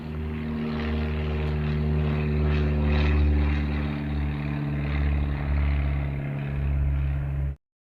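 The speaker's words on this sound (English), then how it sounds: "this plane flew over" A propeller plane of unknown type passes overhead in a garden, a steady low drone with strong engine harmonics that swells and recedes over several seconds before cutting off abruptly.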